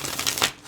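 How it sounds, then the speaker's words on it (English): Tarot cards riffled and shuffled in a quick burst of papery flutters and crisp slaps, close up and fairly quiet, with no voice over it. "let's give it one more shuffle"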